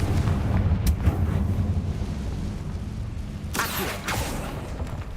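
A Confringo explosion spell blasting in the video game Hogwarts Legacy, a dense roaring burst of crackling low rumble with a couple of sharp bright hits near the end.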